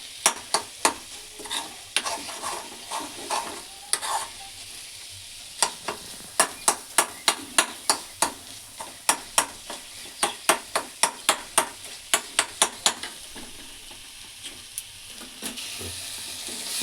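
Gongura (sorrel) leaves frying in a little oil while a spatula stirs them, a soft sizzle under a quick, regular run of sharp scraping taps against the pan that carries on for most of the stretch.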